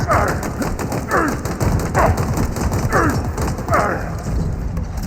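Gunfire from the video game Halo Infinite crackles in repeated bursts and thuds beneath voices and a steady high electronic tone, forming a busy, dense battle mix.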